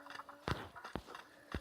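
Horse hooves in the Western video game Six Guns, a few sharp, separate clops at an uneven walking pace, fairly faint and close, with no talk over them.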